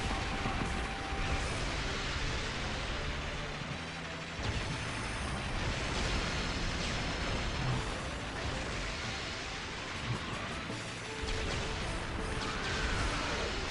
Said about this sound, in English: those explosions are awesome looking